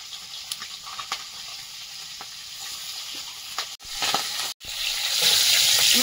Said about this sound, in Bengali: মাছগুলো ভাজা হয়েছে